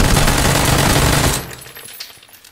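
Rapid automatic gunfire from the video game PUBG bursts loudly and close for over a second, then cuts off into quieter game ambience with a few faint distant pops.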